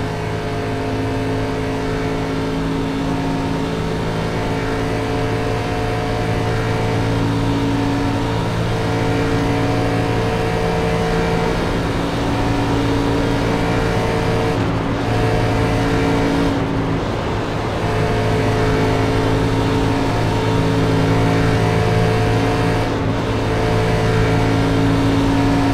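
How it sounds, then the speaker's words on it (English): A K&N Series Impala race car at Talladega drones steadily past, its engine a continuous loud mid-pitched roar with slight swells, no voices over it. "A lap car's gonna be coming through."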